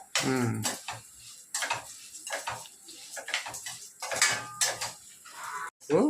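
Chana dal roasted with cumin in a pan while being stirred, with repeated scraping and clattering of the spoon against the metal, loud and close, and brief talk in between.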